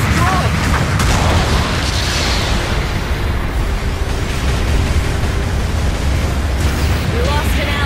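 A ship explodes in the video game Gundam Battle Operation 2, with a loud, dense booming roar that holds as a steady wash of blast noise, while an announcer voice speaks over it.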